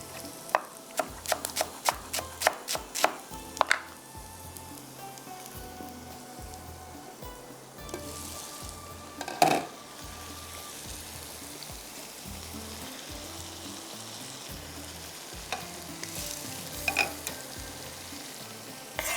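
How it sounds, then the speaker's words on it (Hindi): Garlic frying in a pan for a tadka sizzles in a soft, continuous crackle, with occasional sharp clinks of a utensil against the pan. "यहाँ पर ये देखें लहसुन फ्राई हो चुका है।"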